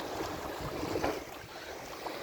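Waves wash onto the seashore in New Caledonia, a continuous rushing surf with gentle swells rising and falling, heard alone without voices.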